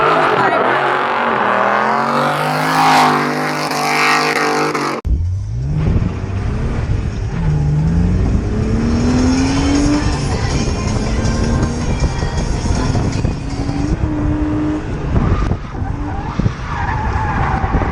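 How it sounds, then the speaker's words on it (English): A BMW E36 drifting in competition: loud tire squeal and engine revving, with a sharp cut to a sustained sliding screech and rising-falling engine notes close to the microphone. "Mike still holding the drift"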